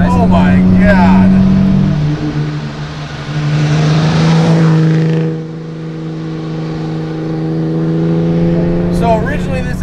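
A deep, torquey engine in a modified 1960 Aston Martin DB4 Series II, bored out from its original 3.6 litres, revs hard, drops back, then climbs again with a steady throaty drone, close by, as voices briefly talk over it.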